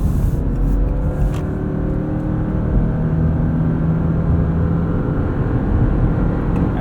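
A 2025 Subaru Forester Hybrid Touring pulls away from a stop, its engine and road noise a loud, steady low drone heard from inside the cabin, with no one speaking.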